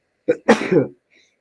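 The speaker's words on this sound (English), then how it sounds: "I feel a sneeze." A single sneeze: a short sharp intake followed by a louder explosive burst, close and alone, then quiet.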